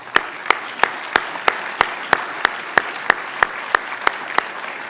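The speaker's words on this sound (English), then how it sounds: "it certainly deserves a round of applause" A single pair of hands claps in a slow, even rhythm, about fifteen crisp, spaced claps at an award dinner, close and clear with little crowd sound behind.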